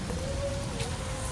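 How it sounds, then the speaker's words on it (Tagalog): Light rain falls outdoors in a town plaza near a church in Calasiao, Pangasinan, a steady close hiss with a faint hum underneath. "Medyo umuulan."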